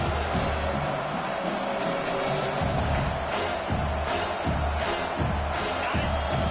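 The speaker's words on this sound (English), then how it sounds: "Decibels rising as the crowd gets behind this defense on 3rd down" Football stadium crowd at an NCAA college game roaring steadily on third down, a dense, sustained wall of cheering with swells and scattered whoops, with no clear speech above it.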